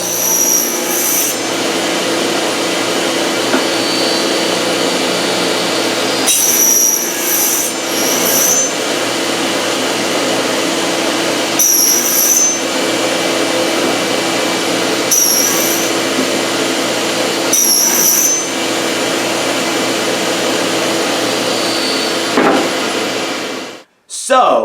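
A fret slotting bit cuts into a guitar fretboard under the steady roar of a running vacuum, a loud continuous whine and hiss with periodic brighter cutting bursts, ending abruptly as the noise cuts off.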